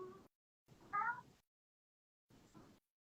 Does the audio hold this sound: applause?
no